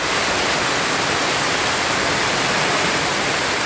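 Strong, loud rushing water in a natural outdoor stream or waterfall, a dense steady roar that runs unbroken and alone.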